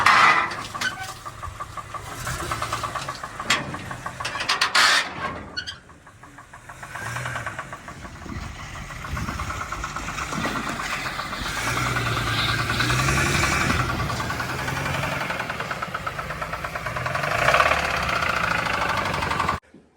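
A rough-running Ford BA Falcon engine, knocking loudly and unevenly at idle and through revs, with a continuous rumbling clatter that swells and dips for about twenty seconds before cutting off.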